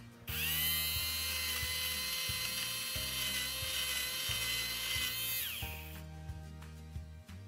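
An electric lint remover whirs at a high, steady pitch while shaving pilling off a sweater, then its motor winds down near the end; close and alone.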